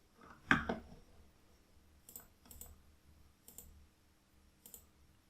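A computer mouse clicks while browsing a website, giving a few faint, sparse clicks spaced about a second apart in a quiet room.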